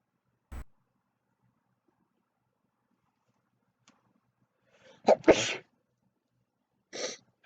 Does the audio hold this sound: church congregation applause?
no